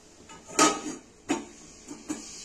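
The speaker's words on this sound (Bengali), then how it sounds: "আলুগুলো সেদ্ধ হওয়ার জন্য আমি একটু এখানে চাপা দিচ্ছি।" A metal lid is set over a cooking pot of potatoes, giving a few close, sharp clanks and lighter rattles in quick succession.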